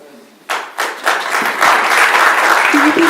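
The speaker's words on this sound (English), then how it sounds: "Can you please hold your applause so we can get as many questions in as possible?" Audience applause breaks out at a ward candidate forum held in a church hall, starting after a brief quiet moment and swelling into steady, loud clapping from a room full of people.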